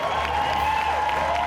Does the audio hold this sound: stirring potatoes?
no